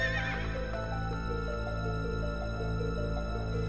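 A dark flying horse in Castlevania on the N64 neighs and whinnies loudly over a steady musical backdrop, with faint hoof clip-clop running underneath.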